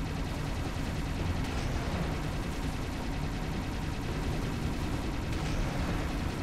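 Banshee weapons in Halo Reach fire continuously at a Phantom on Legendary difficulty, a dense, unbroken barrage of rapid gunfire and explosive thuds filling the whole stretch at steady loudness.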